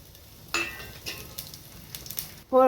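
Fennel, cinnamon, cloves, star anise and stone flower fry in about four tablespoons of hot oil, giving a soft, steady sizzle broken by light clinks of a utensil against the pan, then a louder crackling burst at the end.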